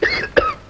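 Two sharp, close coughs, one at the very start and a second a moment later, with a short vocal tail after each, in a Tamil film scene.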